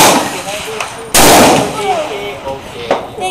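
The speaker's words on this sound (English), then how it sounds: "You're going to be shooting the furthest target here at Cocohead." One loud, sharp rifle shot fired at a steel target about the size of two dinner plates, 430 yards away on an outdoor range, cracking suddenly between people talking nearby.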